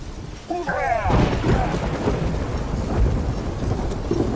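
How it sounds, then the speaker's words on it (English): A magic explosion in The Witcher 3: Wild Hunt, a deep rumbling boom that rolls on like thunder, following a short voiced cry and lingering as a long low echoing roar. "A magic explosion of some sort."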